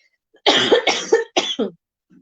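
A woman coughs close to the microphone, a quick burst of three or four harsh coughs followed by a faint trailing breath.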